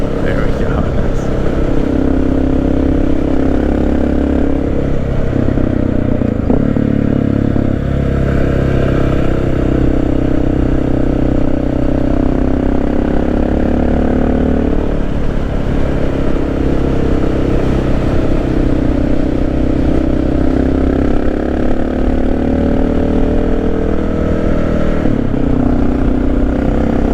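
A Honda XR650L motorcycle climbs a twisty hill road, its single-cylinder engine droning loud and close with shifting pitch through corners, someone talking over the steady ride noise.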